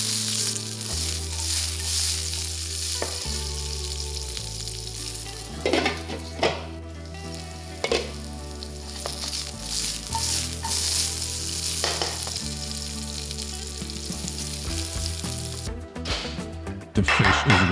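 A sauce seasoned with salt and black pepper cooks in a pan with a steady loud sizzle, broken by repeated scraping strokes and knocks as it is stirred frequently, with a low hum underneath.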